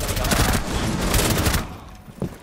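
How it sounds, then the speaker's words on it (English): Heavy gunfire in Rainbow Six Siege: dense, loud bursts of rapid shots roaring continuously for over a second and a half, then dropping off into a quieter tail with one brief sharp sound near the end. "We're under heavy fire!"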